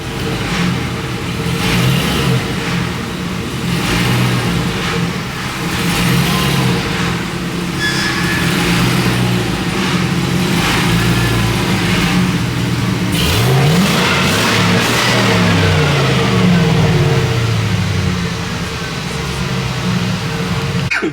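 Chevrolet Silverado pickup engine running steadily and loud, with revving and a low drone as vehicles are moved around, a rising whine near the middle, no talking.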